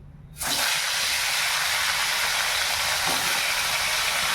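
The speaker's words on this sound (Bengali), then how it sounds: "কড়াইতে তেল দেওয়া হয়ে গেছে, এবার মাছগুলো এক এক করে ছেড়ে দেবো।" Tilapia pieces go into hot oil in a wok, setting off a sudden loud, steady hiss of frying that continues unbroken and close.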